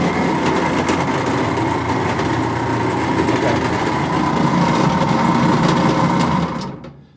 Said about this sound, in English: what we have here is a Maytag dryer. It's probably 15 to 20 years old. And we're getting a loud noise